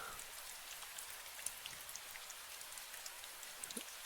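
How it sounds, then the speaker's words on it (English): Steady rain falls in the post-apocalyptic game Last Breath, a continuous soft hiss of drops with scattered brighter patters on surfaces, even and unbroken throughout. "Whoa, it's raining."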